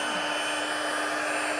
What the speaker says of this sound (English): I'm going to pull out my embossing gun